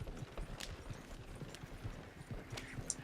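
Horse hooves clip-clop in a steady, moderately close rhythm as a single horse pulls a wagon in Red Dead Redemption 2, with light game ambience behind and no voices.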